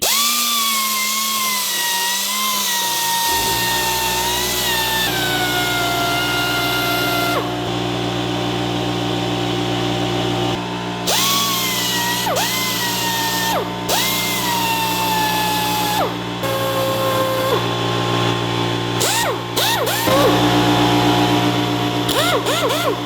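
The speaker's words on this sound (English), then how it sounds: "Let's try to grind something." A small air-powered grinder run off a compressor whines at high speed for a long stretch, its pitch dropping and rising as it bites into metal and spins back up, loud, close and steady, with no talk.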